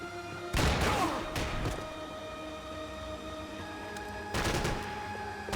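Gunfire in Max Payne 3, two loud bursts of shots separated by a stretch of quieter background hum and music.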